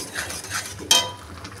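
A spoon scrapes and clinks against a metal pot while lentils with salt and turmeric are stirred, soft repeated scraping building to one sharp clink near the end, close and fairly quiet.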